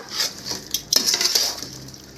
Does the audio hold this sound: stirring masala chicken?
yes